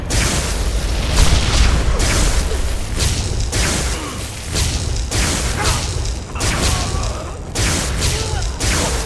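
A fire spitter weapon blasting in the Enderal game, loud repeated booms and crashing bursts roughly every second, each with a whooshing tail, filling the whole stretch.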